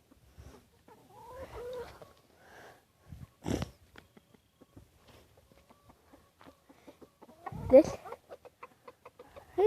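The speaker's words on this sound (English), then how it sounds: "A rooster chickens!" Chickens and a rooster cluck in scattered bursts close by, quiet between calls, with a person speaking briefly among them.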